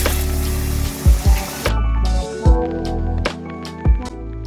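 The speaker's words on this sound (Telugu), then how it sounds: "దానికి సరిపడా నీళ్ళు వేసుకొని" Water is poured into a pan of pandugappa fish curry in a home kitchen, a loud steady rush lasting under two seconds before cutting off, followed by a few soft knocks over quiet background music.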